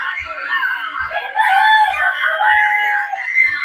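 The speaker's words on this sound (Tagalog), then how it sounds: "Naku, tumunog na yung manok namin." A pet rooster crows loudly and close, one long wavering call held for several seconds over a faint regular thumping beat.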